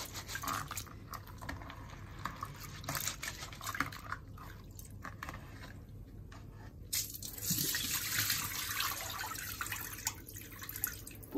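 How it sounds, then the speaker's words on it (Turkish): Mürdük legumes for a local Selendi dish being washed by hand in water, giving continuous close sloshing, trickling and dripping with a brief surge of gushing water partway through. "Biraz siyahlar çıksın diye elimizde yıkayalım."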